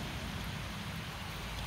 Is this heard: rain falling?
yes